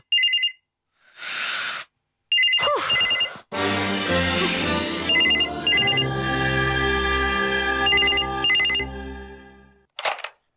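A telephone rings in a home, its bright electronic trill repeating in short paired bursts. Between and over the rings come loud sweeping and rising tones, and the burst of sound ends with a brief final hit.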